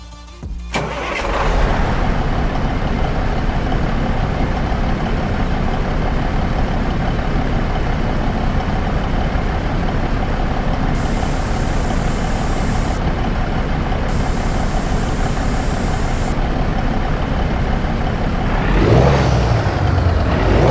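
Freightliner Cascadia Gen 5 truck with a Detroit DD15 engine in American Truck Simulator, hauling long logs: a steady, loud engine drone runs the whole stretch after a brief start-up, with a louder swell near the end.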